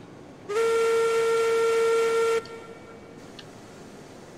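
A steam locomotive whistle in Railroads Online sounds one loud, steady blast for about two seconds, then cuts off and leaves a soft background hiss with no talking.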